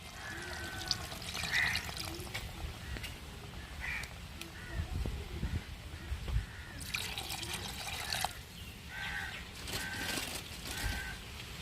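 Mutton boiling water poured into a pot of mutton curry, a steady liquid splash and trickle running for several seconds with small clinks, close by and moderately loud.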